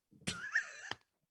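A single wavering, bleating cry from a close human voice imitating a goat, lasting under a second and ending abruptly, with silence before and after.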